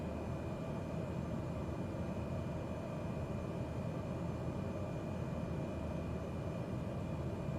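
Steady drone of a reduced-throttle aircraft engine in Microsoft Flight Simulator 2020, a continuous low hum filling the cabin with no break or change in level.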